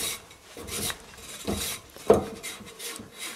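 A Renault Twingo rear brake drum turned by hand, rasping and rubbing in uneven swipes with a sharper scrape near the middle, close and fairly quiet.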